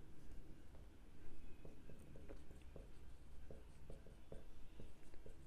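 A pen writing on paper during a Class 10 maths statistics lesson, a faint, continuous scratchy scribbling with small taps of strokes, close and quiet with no talking.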